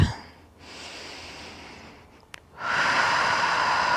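Deep, slow breaths taken while relaxing in a yoga pose, close to the mic: a long airy inhale, a short pause with a faint catch, then a louder, fuller exhale.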